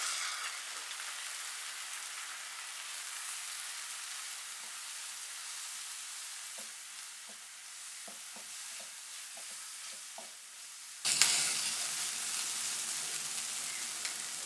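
Steady frying sizzle of onions and spices in a pan with a few soft stirring scrapes, then the sizzle suddenly flares louder and brighter as water hits the hot pan.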